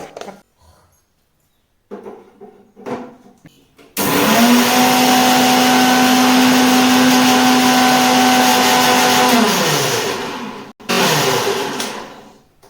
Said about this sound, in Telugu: ఆ షుగర్ని మెత్తగా మనం మిక్సీ పట్టుకోవాలి.